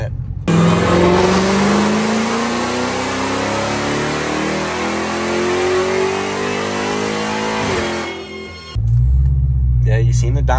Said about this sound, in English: I'm gonna show y'all a little dyno pull real quick of that.